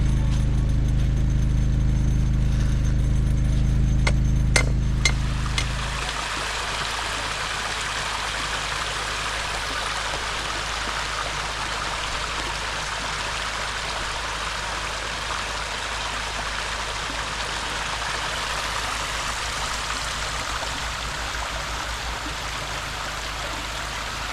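A creek rushes behind an off-grid cabin in Vermont in winter, a steady close broadband wash of flowing water that begins after a few seconds of low humming and a couple of sharp clicks.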